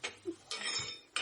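A spoon mixes homemade tomato pickle in a container, giving a few faint clinks and short scrapes in quick succession.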